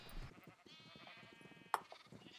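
Sheep bleating in Minecraft on a multiplayer survival server, a short sharp bleat rising above continuous soft game ambience with faint background murmur.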